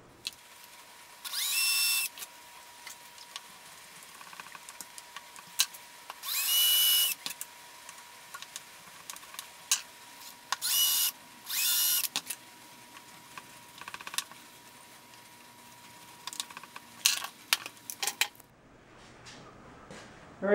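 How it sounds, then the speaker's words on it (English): A router cutting hinge recesses into wood for a butterfly leaf table gives several short, loud whining bursts of about a second each, separated by quiet gaps with scattered light ticks and knocks. "I just finished routing it to the final depth"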